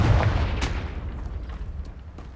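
The Confringo spell exploding in Hogwarts Legacy: a single heavy, close boom with a sharp burst at the start that rumbles and fades out over two seconds.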